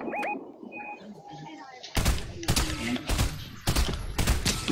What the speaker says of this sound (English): There's some people. They're shooting.